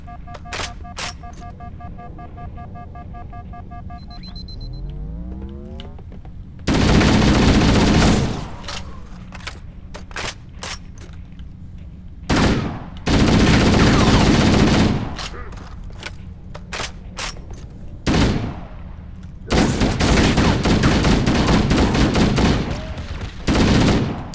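Gunfire against enemies in Halo: The Master Chief Collection, heard as several loud bursts of rapid automatic fire, one short volley and three longer sustained volleys, separated by quieter gaps of ambient game sound.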